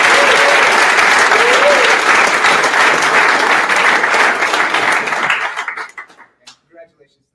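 Audience applause for an award recipient at a Founders Day ceremony, loud, dense clapping that holds steady for over five seconds, then thins into a few scattered final claps.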